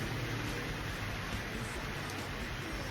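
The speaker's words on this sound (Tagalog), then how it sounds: "lakas ng ulan" Heavy rain pours down in a steady, dense hiss, close and constant throughout, with no voices over it.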